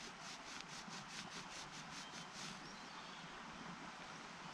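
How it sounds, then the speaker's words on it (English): An old, well-worn penny dug up while coin hunting in Australia is rubbed to clear off dirt, giving a steady gritty scrubbing with a quick run of rhythmic strokes early on, close and continuous with no talk. "rub it out a little bit."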